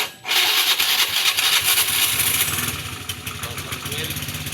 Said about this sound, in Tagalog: Tagal na yung motor mo, Nald, no?